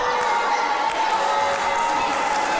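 A noisy wrestling crowd in Gainsborough roars and cheers steadily through a packed hall, a continuous dense wall of voices without pause, with a faint thumping of ring action beneath.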